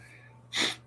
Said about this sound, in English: excuse my sniffling. Every once in a while, I got a sniffle.